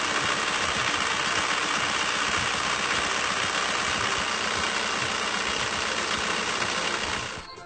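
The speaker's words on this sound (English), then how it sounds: "With the engine up to operating temperature and at idle" A warm VW TDI diesel engine with a mechanical injection pump idles steadily, a loud close rhythmic clatter that carries on evenly and then fades slightly at the end.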